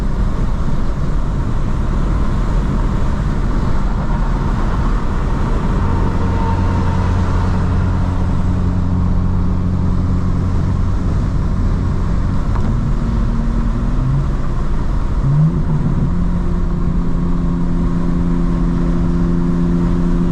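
A modded 2025 BMW M4 CS being driven, heard from inside as a loud, steady engine drone with broad road rumble, the engine pitch rising and shifting in the second half as the car pulls harder.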